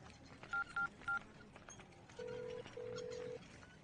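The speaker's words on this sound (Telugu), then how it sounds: "ఒక ఫోన్ చేసుకోవాలన్నా." Phone keypad tones beep faintly: three short evenly spaced presses, then two longer steady tones, over a quiet hospital-ward background as someone places a call.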